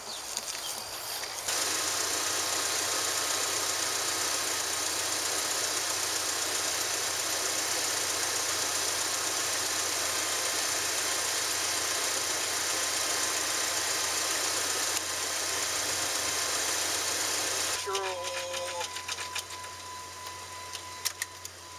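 A Jeep engine left sitting for three months cranks and catches, then idles steadily and loudly up close with a slight knock. Near the end it drops off and gives way to scattered clanks and shorter mechanical noises.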